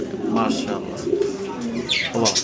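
Pet pigeons coo in low, throaty rolling calls close by, with a voice talking over and between the birds.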